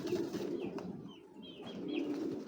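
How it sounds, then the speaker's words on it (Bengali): A female pigeon of the Sapchila breed coos at a loft in low, rolling murmurs that run steadily through the stretch, with a few faint higher chirps overhead and no talking. "মাদি কবুতর"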